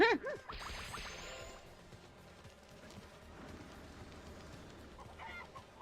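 Chickens in the video game Spyro: A Hero's Tail cluck quietly in the background over a steady low murmur, with a brief higher call near the start.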